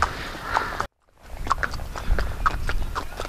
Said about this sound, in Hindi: ये प्रॉपर घोड़े हैं पर छोटे नस्ल के हैं, ये पहाड़ी घोड़े।